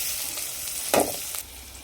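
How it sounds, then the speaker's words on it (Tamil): One big onion sizzling as it fries in a pan for rava upma, with a steady hiss and a brief louder crackling burst near the middle. "ஸோ ப்ரௌனிஷ் கலரில் வர வரைக்கும் நம்ம ஃப்ரை பண்ணிக்கலாம்."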